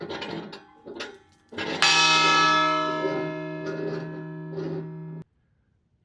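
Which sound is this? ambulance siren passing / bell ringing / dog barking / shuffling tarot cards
bell ringing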